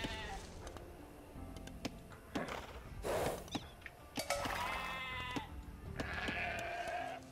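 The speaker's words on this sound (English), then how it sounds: "The sheep over there." Sheep bleat in the video game Age of Empires 2, several separate wavering calls spread across the stretch over soft game ambience and mechanical clicks.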